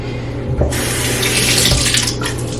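Water running from a bathroom sink tap, a steady close hiss of flowing water with brief splashes as hair is rinsed under it.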